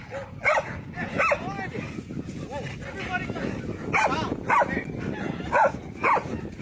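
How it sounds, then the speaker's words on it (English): Dogs bark repeatedly in sharp bursts during a roadside confrontation, several close, loud barks spaced through the scene while people argue over them. "the dogs are barking because he's standing"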